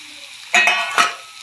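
Potatoes, papaya, onions and banana frying in a pan while being stirred, with two short scraping, sizzling bursts over a faint steady hiss, close by.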